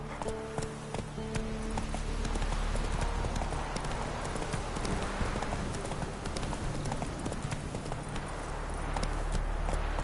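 Hooves of Roach, a horse in a video game, galloping in a fast, steady clip-clop rhythm, close and clear over a continuous background wash of game ambience.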